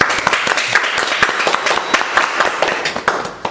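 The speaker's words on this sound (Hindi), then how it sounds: "तो एक बार जोरदार तालियों से" Audience applause at a speaking event, a dense stretch of clapping with sharp individual claps standing out, steady and fairly loud throughout, with no voices over it.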